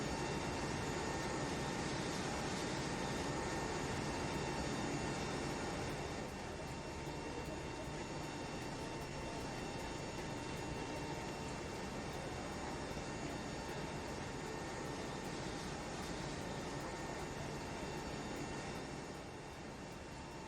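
Loud, constant broadband roar of a CRJ200 jet engine from a flight simulator add-on, droning steadily at high volume with a slight drop in level partway through and no talking.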